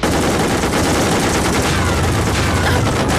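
Loud, dense automatic gunfire from several guns fills a comedy action scene, a continuous rattling fusillade that stays near and intense throughout.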